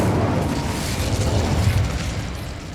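An Incendio fire spell cast in Hogwarts Legacy, a loud, sustained whooshing roar of flame with a low rumble that holds steady for a few seconds with no talking.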